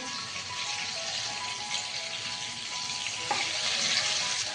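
Butter and oil sizzling in a pan for pav bhaji, a continuous bright frying hiss with a few soft scrapes from stirring and no voices.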